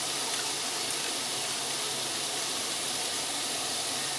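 Water poured into a pot of mutton being cooked, a steady, even rush of liquid heard close and alone for several seconds.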